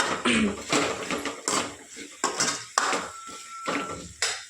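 Onions sautéing in a pan in a home kitchen, with repeated clanks and scrapes of a spoon against the pan in irregular bursts, fairly close, a faint sizzle underneath.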